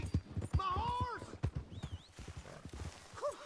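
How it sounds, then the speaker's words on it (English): A horse's hooves clip-clop at a walk in Red Dead Redemption 2, with steady close thuds throughout. Someone speaks over them and the horse gives a short whinny near the end. "Hey! My horse!"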